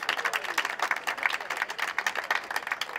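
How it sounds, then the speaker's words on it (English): A large rally crowd at a pro-Brexit event in Gloucester applauds steadily, dense overlapping claps sustained throughout with a few louder swells, no speech over it. "Give yourself a good round of applause."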